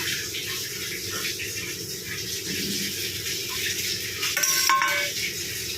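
Okra is tipped into a pan of cooked spiced masala and stirred, with a soft continuous sizzle under scraping and the clink of a spoon against the pan.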